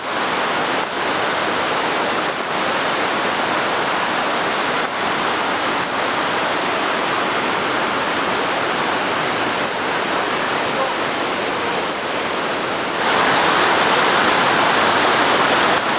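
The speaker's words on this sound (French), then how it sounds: "Il y a plusieurs cascades, ça c'en est une." Roberto Barrios waterfall in Chiapas roars close by, a loud, continuous rush of falling water with a few brief dips, swelling slightly brighter near the end.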